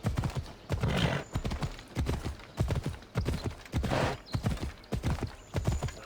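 Horse hooves clatter rhythmically in a fast gallop in a video game (Assassin's Creed), with brief horse snorts and a whinny mixed in, fairly quiet and uninterrupted by talk.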